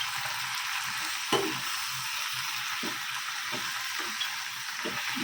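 Mustard greens and spinach cook in a pan with a steady, close sizzle, broken by occasional soft stirring knocks and scrapes; no one speaks.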